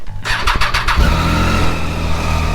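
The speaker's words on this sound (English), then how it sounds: "So let's fire the bike up and then we'll plug it in." A motorcycle engine cranks with a rapid starter rattle for about a second, then catches and settles into a loud, steady idle close by.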